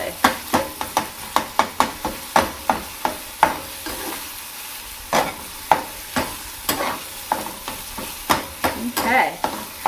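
Ground meat for taco salad fries in a pan while being stirred, a steady sizzle broken by a regular series of sharp scraping clacks from a utensil against the pan, close and fairly loud.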